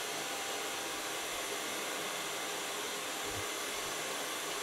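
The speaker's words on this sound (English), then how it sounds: "Gonna blow dry the hairs and then put the other colors on." A hair dryer blows steadily and close throughout while a short trendy haircut is blow-dried before colouring, a constant loud whooshing airflow with no talk over it.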